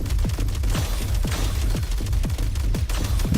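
Rapid video game shooter gunfire: a dense run of sharp shots with evenly spaced heavier blasts about every quarter second, loud and steady over a constant rumbling backdrop, no talk.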